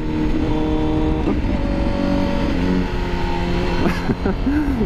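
A 2020 Honda CBR1000RR-R SP sportbike engine runs at steady revs with harmonic drone, then a shift into second gear at about four seconds brings a brief rev change; the rider talks over it throughout.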